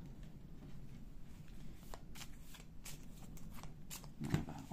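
Tarot cards are shuffled close by in a quiet room, producing soft, repeated papery riffles and slides with a small thump near the end.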